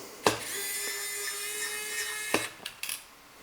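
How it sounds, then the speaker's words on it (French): Small Torx 6 screwdriver grinds and turns a tiny screw inside a Steam Deck OLED handheld, a steady scraping whir lasting about two seconds, framed by sharp clicks and light taps, close and quiet. "Donc on reprend le tournevis."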